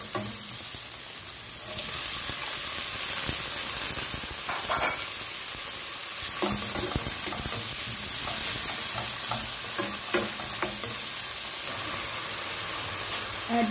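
Shrimp frying in a pan with garlic, tomato and the oil left from fried egg, cooking for pancit. A steady, close sizzle runs throughout, broken by repeated scrapes and clacks of a utensil stirring.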